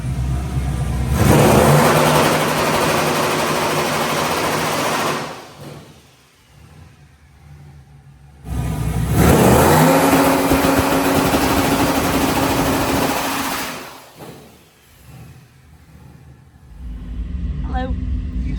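A nitrous-fed LS engine on a 100 shot with 25 psi of boost roars loudly in two long, sustained full-throttle revving bursts, each dropping away to quiet idle between pulls.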